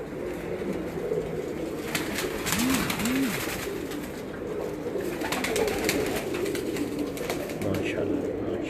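Pigeons kept on a rooftop coo softly in two short rolling calls over steady outdoor background noise, with faint higher bird sounds and distant murmur around them.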